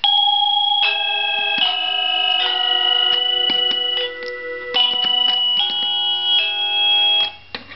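A SadoTech Starpoint Gen1 long-range wireless doorbell chime plays a melody of several clear electronic tones, close and loud with no other sound.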